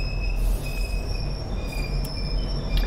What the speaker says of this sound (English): That's a pretty nice train.